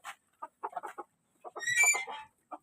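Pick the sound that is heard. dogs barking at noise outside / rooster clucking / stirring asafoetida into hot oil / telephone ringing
rooster clucking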